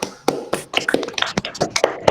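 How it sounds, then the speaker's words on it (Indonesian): A class of schoolchildren claps hands in a quick, uneven burst of sharp slaps, close and fairly loud. "Tepuk tangan dulu untuk kalian semua."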